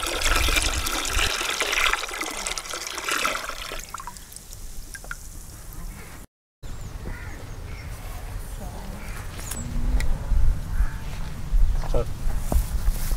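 Five litres of cow urine pour into water for a sugarcane seed treatment, a wet trickle and dribbling splash that grows louder toward the end, with crows cawing nearby and voices in the background.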